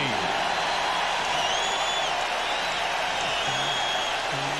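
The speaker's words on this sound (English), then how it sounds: "And this foreign crowd is rocking." Basketball arena crowd cheering after a three-point basket at a 1997 Lakers–Bulls game: a dense, steady roar with whistles and shouts throughout, with a commentator's voice faintly in the mix.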